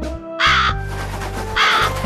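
A crow caws twice, loud and close, with a short pause between the harsh calls over a steady low background tone.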